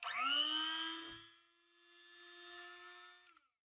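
A KingTop coffee grinder runs empty, giving a steady high-pitched motor whine with a bright start that settles into a lower sustained hum before cutting off, close and alone.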